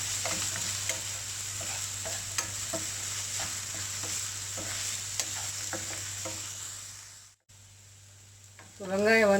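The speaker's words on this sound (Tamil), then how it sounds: "வெங்காயம் வந்து 2 நிமிஷம் வதங்கிடுச்சு" Onions sauté in a pan with a soft, steady sizzle. A spatula taps and stirs them at intervals. The sizzle cuts out briefly near the end, and then a voice begins.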